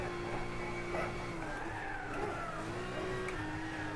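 Turbocharged car driven in Gran Turismo 6 holds a steady engine drone with shifting whining tones, loud and continuous throughout, no speech.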